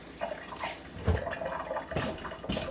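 Water splashes and gurgles in short bursts as it is poured into a cooking pot in a home kitchen, close and moderately loud, with no speech.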